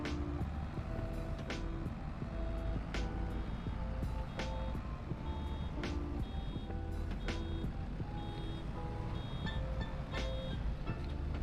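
Repeated reversing beeps from a vehicle in Farming Simulator 22 on a farm map, a sharp beep every second or so over a steady engine rumble, with no talk.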